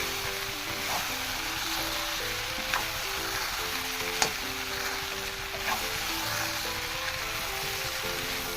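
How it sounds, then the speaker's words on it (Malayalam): Onion, chili and jackfruit stir-fry in coconut oil with a steady, dense sizzle, close and even, punctuated by a few soft scrapes and taps from stirring. "ഉള്ളിയും മുളകും ചക്കയും നല്ലോണം മിക്സ് ചെയ്യാം നമുക്ക്"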